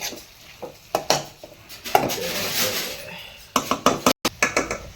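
Spring onions stirred in a cooking pan for a broccoli mushroom paneer fry: close clinks and scrapes of a utensil against the pan, a soft frying hiss in the middle, and a voice now and then.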